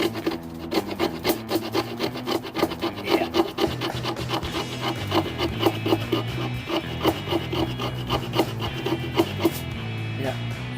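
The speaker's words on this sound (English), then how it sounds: "I can get pretty fine cuts with these. I got some fat wood here." Bark River Ultra Lite Bushcrafter knife carving fine shavings from fatwood, rhythmic scraping strokes repeating about once per second, close and crisp, with no talk.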